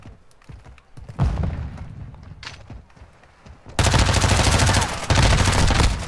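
Bursts of Lachmann Sub submachine gun fire in the video game Modern Warfare 2. Scattered shots and game noise come first, then loud, sustained automatic fire with a brief break near the end.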